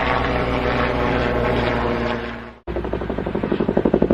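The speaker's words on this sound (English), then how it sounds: "Agriculture helicopter." An agricultural helicopter engine drones steadily, breaks off briefly, then returns with rapid rhythmic rotor chopping that grows louder.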